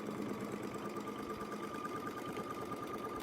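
A sewing machine stitches a quilt along a Westalee ruler, a steady even mechanical hum and rapid needle patter running continuously at moderate distance, with no talking.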